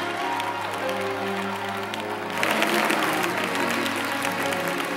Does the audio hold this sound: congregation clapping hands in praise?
yes